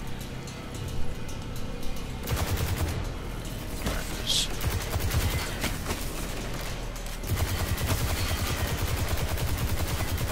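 Rapid automatic gunfire in the Destiny 2 video game rattles in continuous bursts, loud and close, mixed with mechanical game effects throughout.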